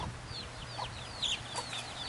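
A mother hen clucks softly and repeatedly while gathering her chicks on a farm, the short calls coming at a steady pace. High chick peeps chirp around her, with faint background noise.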